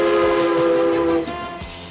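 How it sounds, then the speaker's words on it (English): The Durango & Silverton narrow-gauge steam train sounds a long, loud steady whistle at a downtown street crossing, then it cuts off and the rumble of the train carries on. "Whistles for each street crossing are answered by waves from townspeople all along the track."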